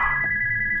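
Telephone ringing in the Spooky's House of Jump Scares video game, a steady electronic ring tone heard alone and close for under a second.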